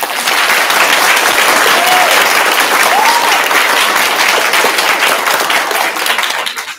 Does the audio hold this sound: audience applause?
yes